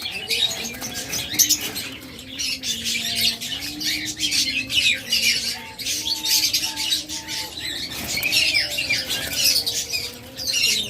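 Diamond doves and other pet birds kept for sale at a market, chirping and squawking continuously near and far, with short tonal calls and occasional wing flaps over a busy background.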